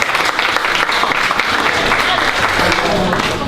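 Audience applause fills a school library renovation event, steady dense clapping throughout at close range with crowd murmur mixed in.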